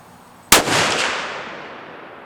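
A single loud rifle shot from a Ruger American chambered in 7 PRC fired at a target range, sudden sharp crack followed by a long rolling echo that slowly fades.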